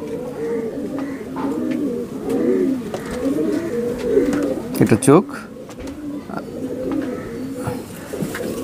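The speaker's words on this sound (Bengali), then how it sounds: "নীলদুম্বা কবুতর চিনতে অসুবিধা হবে না।" Nildumma pigeons coo continuously in low, rolling phrases close by, with someone speaking briefly over them and a short sharp burst partway through.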